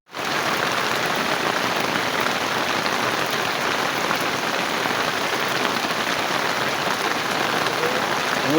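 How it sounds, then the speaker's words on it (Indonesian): Steady rain falling outdoors by a reservoir fishing spot, a dense continuous hiss of drops on surfaces that holds at an even loudness throughout, with no voices. "Aya hujan mah."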